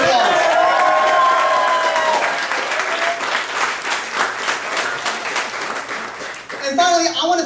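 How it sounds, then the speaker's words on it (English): At a Montgomery County Council campaign kick-off, a room of supporters breaks into sustained applause, a dense patter of many hands with a few cheers, while voices talk over it, loudest at the start and end. "Please give them a round of applause"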